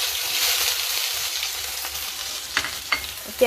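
Onions fry in a pan with turmeric, bay leaf and five-spice seeds, a steady close sizzle with a few sharper stirring clinks near the end, with no voices.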